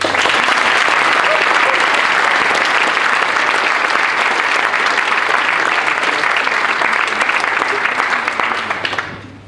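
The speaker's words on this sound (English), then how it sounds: "would you give a big round of applause for Stephen Pinker?" A large lecture audience at a festival of ideas gives sustained, loud applause for Steven Pinker, dense clapping holding steady for about nine seconds before tapering off.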